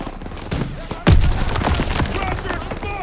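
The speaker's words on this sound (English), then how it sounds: "Gunfire! He must be near our guys." Gunfire in the World War II shooter game Call of Duty: WW2, a sharp burst of shots followed by scattered distant rifle and machine-gun fire, with voices shouting over the battle.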